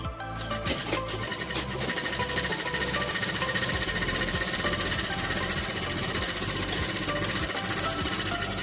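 A sewing machine stitches a pillow cover, a loud, close, rapid mechanical chatter that starts after a brief hesitation and then runs steadily for the rest of the clip.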